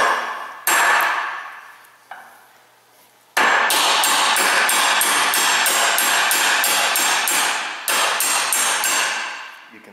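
A hammer tapping a U-joint socket to press a U-joint into a vehicle driveshaft yoke: loud, close metallic blows, a few isolated strikes with ringing decay, then a rapid steady run of repeated taps, one short pause, and more taps.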